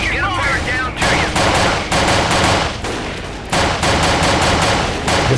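Gunfire in the video game Delta Force Black Hawk Down: loud, dense bursts of automatic fire in repeated volleys with short gaps between them, continuous and close.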